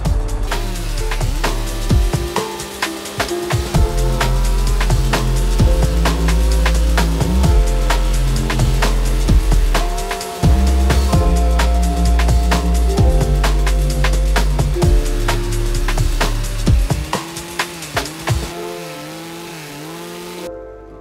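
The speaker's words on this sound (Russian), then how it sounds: "Начинаем производить шлифовку затеса." A power tool sands a notch cut into a log for a Canadian-style log cabin crossbeam. The motor drones loudly and steadily throughout, its pitch rising and dipping as it bites into the wood, with no voices.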